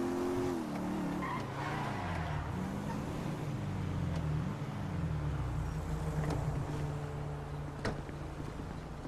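A car in the video game GTA 5 driving hard with a rumbling engine that shifts pitch, tires squealing and skidding through turns, a continuous loud run with a few sharp knocks near the end.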